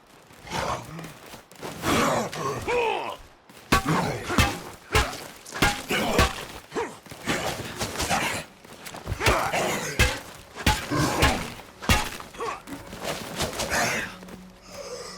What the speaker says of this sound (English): Let's go beat up the Pharaoh with the melee weapon.